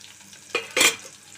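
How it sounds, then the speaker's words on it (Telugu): Thinly chopped onions and green chillies frying in a pan, with two short close stirring scrapes over faint background sizzle. "పచ్చిమిర్చి, ఉల్లిపాయలు సన్నగా ముక్కలు కట్ చేసుకొని వేసుకున్నాను"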